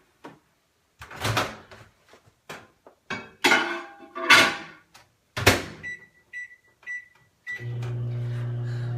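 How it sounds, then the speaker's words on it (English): A kitchen microwave oven bangs shut and beeps as its buttons are pressed, then settles into a loud, steady low hum that runs alone to the end. "So I'm gonna let that microwave for 6 minutes"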